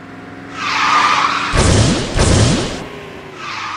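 A drifting car in the racing game Garena Speed Drifters lets out a loud, close tire skid that swells into a sharp screech over about two seconds, with engine whoosh around it.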